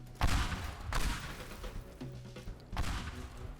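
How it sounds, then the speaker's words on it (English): Pipe bombs going off in the destruction game Teardown: a burst of heavy booming blasts, three or four loud explosions spaced across a few seconds with rumbling debris between them, no talk. "that's just me flinging pipe bombs"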